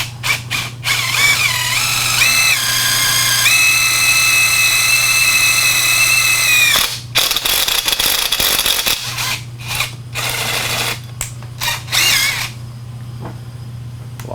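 A DEWALT drill tapping 12-24 threads with tapping fluid whines loudly at steady speed, rising briefly before a long sustained run, then stops and restarts in short bursts over a constant low hum.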